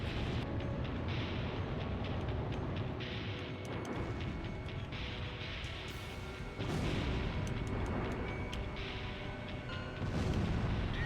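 Heavy booms and rumbling blasts from an aerial bombing of civilian targets in Ace Combat Zero, repeated bursts rolling over a dense, continuous roar with no voices.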